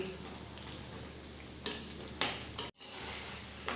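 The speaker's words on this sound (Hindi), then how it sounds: "हाई फ्लेम के ऊपर इसे इस तरह से चलाते हुए गोल्डन ब्राउन फ्राई करके रेडी करेंगे" A snack being stirred and fried in a pan over a high flame: a soft steady sizzle with a few sharp scraping clinks of the spoon against the pan, faint and close.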